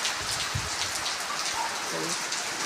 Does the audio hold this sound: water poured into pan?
no